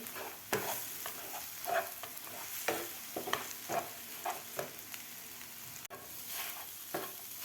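A spoon stirs and breaks up egg bhurji in a hot pan, giving repeated close scraping knocks over a soft, steady sizzle, with a sharp clatter near the end and no talking.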